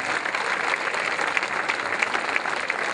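Audience applause at the Premio Emozioni 2010 singing event, a dense, steady wash of clapping from a crowd that holds evenly for a few seconds with no voices over it.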